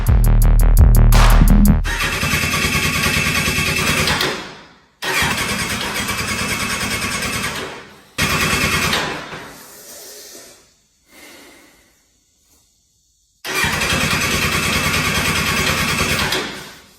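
Attempts to start a 2007 Kawasaki Z1000 motorcycle under restoration: loud starter cranking bursts, each a few seconds long, one fading out unevenly, separated by short quiet gaps, with no sign of the engine catching and running.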